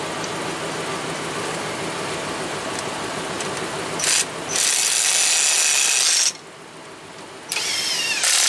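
A power tool spins lug nuts onto a wheel of a 2004 Chevy 2500 Crew Cab pickup during brake work, heard as two sustained loud whirring bursts, one short and one long, over steady shop background noise.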